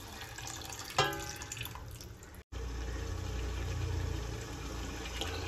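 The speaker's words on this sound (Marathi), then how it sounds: "उरलेल्या मसाल्यामध्ये थोडंसं पाणी टाकून ते पाणी चिकनमध्ये टाकूया." Leftover masala water poured into a pot of chicken, a steady close trickle and splash with a sharp clink near the start and a brief cut midway, with no talking.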